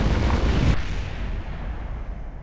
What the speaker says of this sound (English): The explosions do look quite lovely